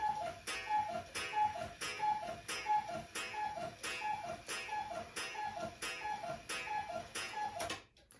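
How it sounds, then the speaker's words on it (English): A cuckoo clock ticks in a steady, even rhythm of crisp clicks, close and fairly quiet, with no voices, stopping abruptly just before the end. "Did I get spooked by the cuckoo clock?"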